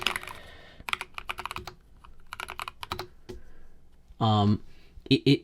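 Typing on a computer keyboard with a tiny shift key, in quick bursts of close, sharp key clicks between stretches of someone talking, and a few louder keystrokes near the end.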